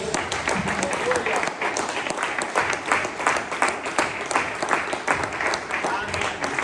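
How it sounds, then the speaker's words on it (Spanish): Church congregation applauding during a service, a steady wash of many hands clapping with voices mixed in throughout. "démosle un aplauso a nuestro Dios"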